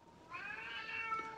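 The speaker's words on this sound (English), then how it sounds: "my cat's getting kind of loud" A cat meows loudly and continuously in a drawn-out, wavering call indoors, close and alone with no talking.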